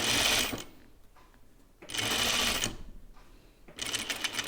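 Three short runs of a sewing machine stitch the corner of a caftan dress, each a close, rapid mechanical hum. Quieter pauses between them carry faint handling noise.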